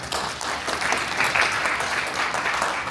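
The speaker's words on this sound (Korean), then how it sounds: "박수 부탁드리겠습니다" Sustained applause from a conference audience fills the hall at the first general meeting of an academic society devoted to Taego Seon thought, steady, dense clapping for about three seconds with no talk over it.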